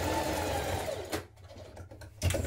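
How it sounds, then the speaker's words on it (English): A sewing machine stitches across the ends of elastic on a shirt dress. It whirs steadily for about a second, stops, then gives a few short bursts of stitching, with quiet handling noises between them. "stitch across each end of your elastic once you've pulled it through to secure it"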